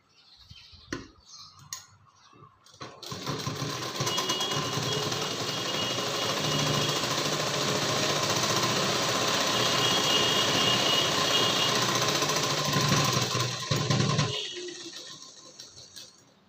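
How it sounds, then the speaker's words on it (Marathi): A sewing machine stitches a blouse fitting seam in one long continuous whirring run of about eleven seconds, with a few faint taps before it starts and after it stops. "झाली आपली फिटिंगची शिलाई आता या बाजूची आपली झालेली आहे"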